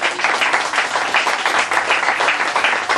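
A church congregation claps together in praise, many hands beating a fast, dense rhythm that fills the room, loud and continuous throughout.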